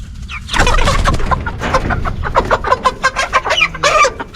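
Broiler chickens cluck and squawk in a rapid, overlapping chorus, close and fairly loud, while they are handled one at a time on the way out to pasture.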